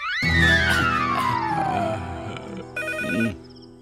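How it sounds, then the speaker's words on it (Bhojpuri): A landline telephone rings loudly and close by, a shrill electronic tone that sweeps downward, then a second short burst of ringing before it stops. "कौन पपिया है टाइम में फोन करस रे? रिंग जाता।"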